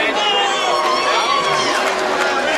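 A mixed reaction from a crowd at an MMA event in Hawaii as a fight result is announced: dense, loud chatter and shouting, with cheers mixed into a steady wall of voices.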